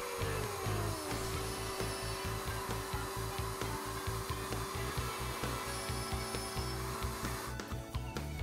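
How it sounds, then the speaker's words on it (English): A router table cuts three-sixteenth-inch box joints in wooden boards held in a Leigh RTJ400 dovetail jig, giving a steady, loud motor whine with a rapid, regular chatter of cuts running throughout. "Three 16th inch box joints are routed using frame positions 1 and 2 for the pin boards"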